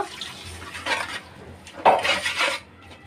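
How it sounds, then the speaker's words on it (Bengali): Water poured into a cooking pan of dried fish fried with onion and garlic until browned, giving two short splashing bursts with a sizzle, close by, then fading to quiet. "এখন এটার মধ্যে একটু পানি দিয়া বাকি মশলাগুলো দিয়ে দিব"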